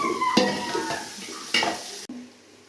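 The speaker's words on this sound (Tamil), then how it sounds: "பச்சை மிளகாய், புதினா, கொத்தமல்லி இதையும் சேர்த்து கூடவே சேர்த்து வதக்கலாம். இன்னும் நல்லா வதங்கட்டும், வெங்காயம் இன்னும் வதங்கணும்." Onions with green chilies, mint and coriander sautéing in a pan, with a few sharp spatula scrapes and clinks over a soft, continuous sizzle close by.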